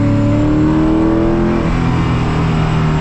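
Koenigsegg CCX sports car accelerating hard on the Autobahn, a loud, close engine roar with rising harmonic tones that climb through a gear in the first half, then settle into a steady high-speed drone.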